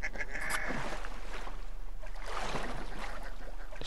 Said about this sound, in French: Et là, c'est la mare au canard,